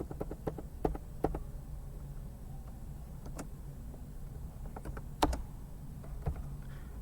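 Keys are typed on a computer keyboard while editing a document in Microsoft Word, producing sparse, irregular clicks and taps of varying strength over a faint steady background hum.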